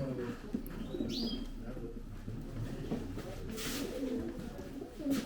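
Pigeons cooing softly at a Gelibolu loft where Jumbo Kostüm, Şebap and double-crested tumbler pigeons are kept, low murmuring coos over steady background hiss with a few brief chirps.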